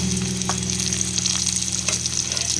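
Taro slices sizzle steadily in hot oil alongside six or seven dried red chillies added to the side of the pan, a close, continuous crackling fry with faint stirring and no voices.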